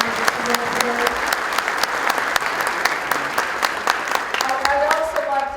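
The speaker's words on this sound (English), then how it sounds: "Can we have a big round of applause for the people who are today?" A conference keynote audience claps throughout, the sharp individual hand claps standing out from the crowd, while a voice talks over the applause.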